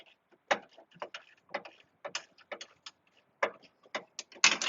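A ratchet wrench backs a bolt out of a 2012 Jeep Grand Cherokee engine bay, giving close, crisp bursts of clicking in short uneven runs with brief pauses, ending in a denser, louder flurry of clicks.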